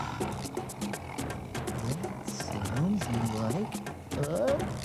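Tiger roars and growls, fairly loud and close, rising and falling in several drawn-out bursts that overlap with voices and other activity throughout.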